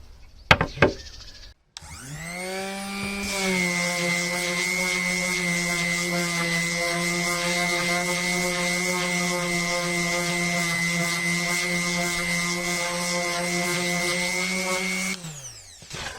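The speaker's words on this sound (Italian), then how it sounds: "mettiamo di 80, proviamo a levigare questo pezzo di legno molto grezzo" A Topshak TS-SD1 130W delta sander fitted with 80-grit paper works a very rough piece of wood, starting after a few handling knocks, then running as a steady high whine with buzzing rasp for over ten seconds before switching off.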